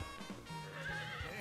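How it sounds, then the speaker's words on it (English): Horses neigh in the town of New Delsta in the video game Octopath Traveler II, a bright whinny over clip-clopping hooves, close and clear, with game ambience behind and no talk. "Horses."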